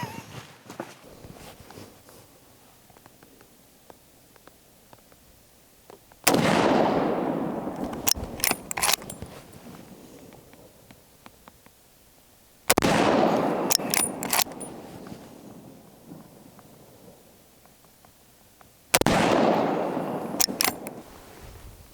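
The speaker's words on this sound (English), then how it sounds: "Just can't get that plate." Winchester 1895 takedown rifle fired at a steel plate outdoors: three loud, widely spaced shots, each with a sharp crack and a long rolling echo, plus faint clicks of working the action between them.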